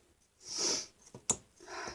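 Someone with the sniffles sniffs through a congested nose, a few short breathy sniffs close to the microphone with a sharp snort-like intake near the middle, in a quiet room with no talking.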